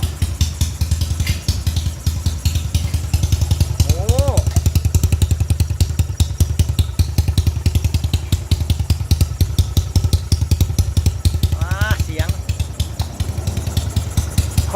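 A motorcycle engine runs close and loud in a repair shop, with a steady rapid idle and brief revs, while people talk over it now and then.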